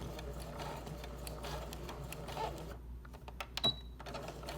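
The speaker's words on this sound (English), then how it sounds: "So I'm going to start sewing." A Brother sewing machine stitching a drawstring bag, a quiet rapid mechanical whir of the needle running in bursts, with a few clicks and a brief pause near the end.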